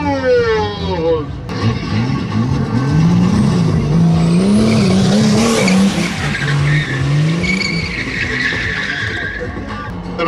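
A race car skids and spins with tires squealing, its engine revving loudly throughout as a commentator talks excitedly over the roar.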